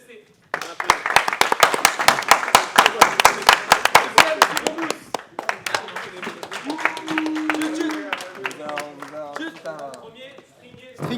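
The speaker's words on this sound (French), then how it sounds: "On va applaudir troisième équipe, Tribune FC." A group at a football training camp in Besançon claps for the third team, Tribune FC, with rapid, distinct claps that soften into scattered clapping as voices talk over the end.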